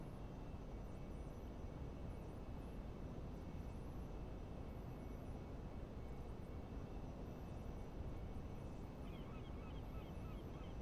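Aircraft in the Prepar3D flight simulator taxiing on the ground at Gibraltar, a steady broadband engine roar that stays constant and fills the scene, with faint high chirps on top and no talk.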